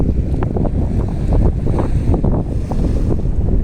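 Wind buffets the microphone over steady Red Sea surf washing against the Sharm el-Sheikh shore, a continuous rushing roar.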